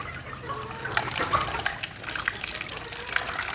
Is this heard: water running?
yes